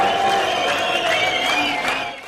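A crowd of young Israeli voters cheers and shouts at an ultra-nationalist rally, a continuous roar of many voices with rising whoops and applause, fading slightly at the end.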